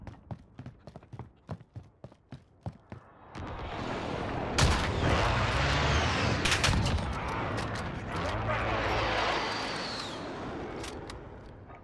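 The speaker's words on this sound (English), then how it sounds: "Enemy precision airstrike. Take cover." A Call of Duty: Modern Warfare match: a quick run of sharp, separate gunshots, then a precision airstrike erupts into a long, loud roar of explosions and rumbling blasts that fades and swells again before dying away.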